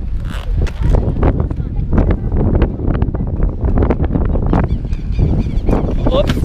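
Strong wind buffets the microphone outdoors at a street rollerblading session with rail and box tricks. Loud, gusty low rumbles and bursts come one after another, with a voice briefly heard among them.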